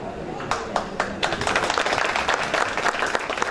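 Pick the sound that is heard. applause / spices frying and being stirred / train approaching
applause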